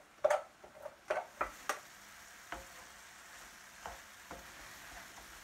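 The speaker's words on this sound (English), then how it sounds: "get my just cooked rice into that pan with everything else. So pop it all in there and give it a good mix about" Freshly cooked rice with broad beans and peas gets mixed in a pan for risotto, a series of soft scraping and clacking stirs that start in a cluster and then thin out over a quiet, faint sizzle.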